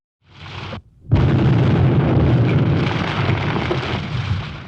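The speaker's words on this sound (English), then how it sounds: "Artillery shrieked overhead." A sustained, roaring blast of explosive noise after a brief lull, dense and loud like heavy artillery fire rumbling continuously.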